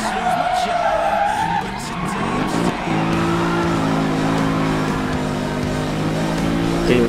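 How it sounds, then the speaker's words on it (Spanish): Car engine in Need for Speed Rivals surges as turbo boost engages on a Mercedes-Benz SLS AMG Coupé, with tire skids and a sustained loud roar holding steady through the stretch. "por error activé el turbo."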